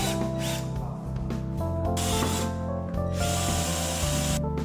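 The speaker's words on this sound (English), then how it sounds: "Drill holes in the window frame and fix it." A power drill whirs steadily, drilling holes in an aluminum casement window frame, biting in with sustained grinding bursts and brief pauses, close and loud.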